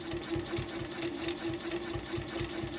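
A sewing machine stitches fabric in quick, even bursts, a close, rhythmic mechanical whir with regular needle thumps across the whole stretch.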